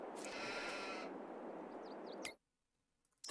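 Sheep on a Farming Simulator 22 farm bleating loudly, one long wavering bleat and then a second, with a distant caw in between before the sound cuts out briefly.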